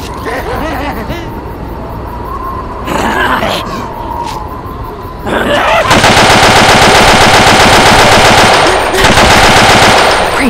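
Video game gunfire in a combat match, starting with scattered bursts and then a loud, sustained rapid automatic barrage, with brief voices and chatter between the shots.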